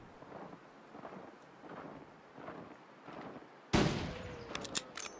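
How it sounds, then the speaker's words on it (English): A single loud gunshot rings out in The Long Dark survival game, a sharp blast that breaks a stretch of low, windy ambience and trails off in a long rumbling echo. "That was a good shot."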